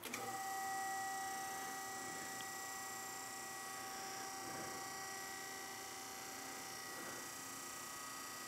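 An electric car lift's pump motor running steadily to raise a Ford Mustang Mach-E GT, a constant whining hum with tonal overtones after a brief start.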